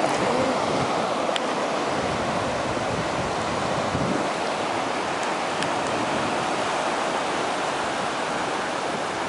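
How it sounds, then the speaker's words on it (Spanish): Ocean surf washing onto a shore near Reñaca, a continuous loud roar of breaking waves with wind buffeting the microphone throughout, no voices. "Ya tenemos las olas, helada, el agua está helada"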